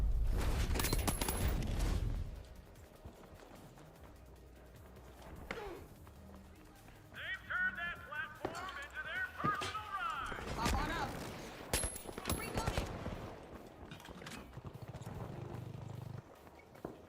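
Gunshots in The Outer Worlds 2 firefight, a loud burst at the start followed by scattered sharper shots and effects over a quieter stretch, with a person talking in between.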